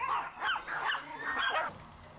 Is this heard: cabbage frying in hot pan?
no